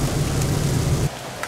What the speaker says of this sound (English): It's torrential downpour